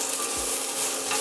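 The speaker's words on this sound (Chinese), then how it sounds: "然后把姜放进去，先炒一下。" Ginger stir-fried in a wok with a spoonful of hot oil gives a brief, close, bright sizzle with a quick low scrape of the spatula against the metal, no voices.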